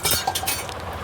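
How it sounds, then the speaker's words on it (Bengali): A metal spatula stirs oil in a wok, knocking against the pan in a few quick, close metallic clinks and scrapes over a soft background hiss. "কড়াতে তেল দিয়ে দিচ্ছি। তেলটা খুন্তি দিয়ে নাড়িয়ে নিলাম।"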